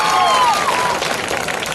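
Loud, dense applause from an audience at a high school event in Ranoli greets a guest, a brief burst of many hands clapping together.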